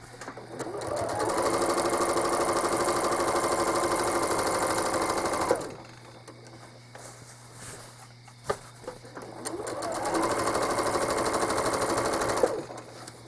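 A home sewing machine stitching the binding area of a quilt border, running in two long steady whirring bursts near the mic, separated by a quiet pause with faint handling noises.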